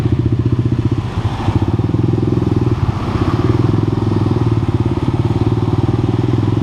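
A small motorcycle with twin exhaust pipes, riding through Bangkok traffic, burbles loudly and steadily, with a few throttle blips swelling the pulsing engine note close up.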